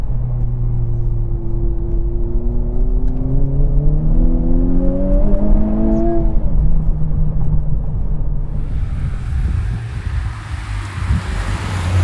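A Honda Civic Type R GT accelerates hard, its engine note climbing through several gears with brief drops between shifts, then fading into steady road and wind rumble, with no talking.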